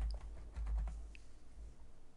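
Keystrokes on a computer keyboard while entering a macro name in Microsoft Access, a quiet scatter of soft clicks close to the mic with no voice.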